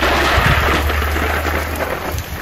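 Steady rain with a low rumbling undertone, like distant thunder, continuous and fairly loud throughout with no voices.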